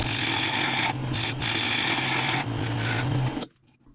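A wood lathe spinning at 1200 RPM while a bowl blank is cut down to form a tenon gives a steady, loud rasping hum with a low tonal drone, breaking off abruptly near the end.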